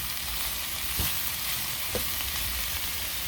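Beef, chicken and baby corn stir-fry in a full wok on a backyard patio, a continuous bright sizzle with two brief clatters of the pan being shaken, no voices.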